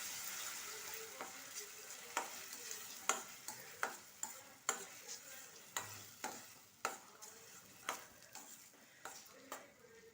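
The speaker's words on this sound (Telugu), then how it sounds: "ముందుగా మిక్సీ పట్టుకున్న ఉల్లిపాయ పచ్చడి, స్టవ్ సిమ్లో పెట్టుకొని బాగా ఉడికించుకోవాలి" Onion chutney cooks in a pan on a stove over low flame, soft sizzling underneath a regular series of sharp scraping stirs, roughly every half second, close and fairly quiet.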